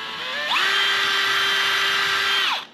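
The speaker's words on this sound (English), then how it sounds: "I'm going to pre-drill a hole" A power drill pre-drilling a screw hole for a heavy-duty lumber rack whines up, runs at a steady high pitch for about two seconds, then winds down, close and loud.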